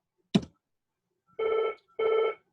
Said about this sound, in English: Somebody's trying to phone me, but I can't be bothered to answer.